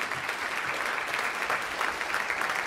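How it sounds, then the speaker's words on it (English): An audience at a school band festival concert claps for the conductor, a steady, dense wash of applause across the whole moment. "Let's give him a round of applause."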